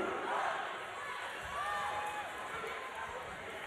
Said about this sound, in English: Just an amazing crowd here at the Pentagon